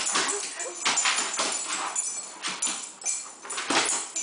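A Great Dane whimpers and whines repeatedly while chasing a flashlight beam indoors, the high, strained cries close and loud against room noise, with brief voices in the background.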